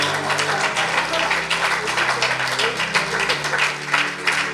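Congregation applauding during a French-language church worship service, steady dense clapping that carries through the whole stretch with a low musical drone underneath.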